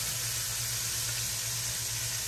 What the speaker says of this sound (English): Okay, it's time to put in the potatoes.